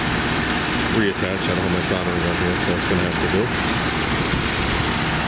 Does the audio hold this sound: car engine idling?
yes